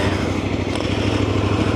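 Cove 800 off-road motorcycle engine running close and loud on an expo show floor, a steady throbbing idle with a slight rev, no talking.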